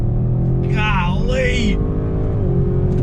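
A 2021 Audi RS7 accelerates on throttle, its engine a steady, loud, close drone from inside the cabin, rising slightly, while a person exclaims briefly over it.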